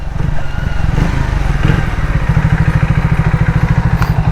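A Triumph Speed T4 motorcycle engine running steadily, with a close, rhythmic low thumping pulse that turns into a clear, even putter during the second half.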